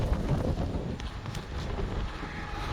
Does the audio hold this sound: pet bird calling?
no